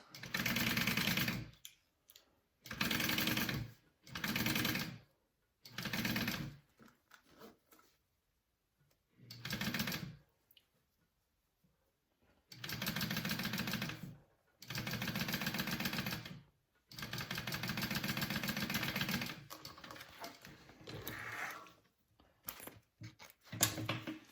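Sewing machine stitching a zipper panel along the top edge at a 1/8 inch seam allowance for a duffel bag, heard as repeated bursts of steady, loud motor-driven stitching separated by short pauses, with no talking.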